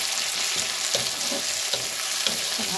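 Chopped tomato frying in a pan for a Odisha-style katla fish recipe, a steady close sizzle with soft stirring scrapes at intervals.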